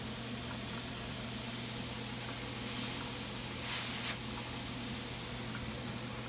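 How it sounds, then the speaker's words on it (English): A brief burst of hissing steam escapes a heated autoclave over a steady low hum, lasting about half a second before fading back into the background drone. "We got more steam coming out, and you can hear it's cooking inside."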